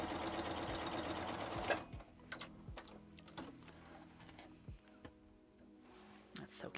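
Home sewing machine quilting a child's coat with lining, whirring steadily and loudly for nearly two seconds, then stopping. Clicks and small mechanical ticks follow, and a voice speaks between them.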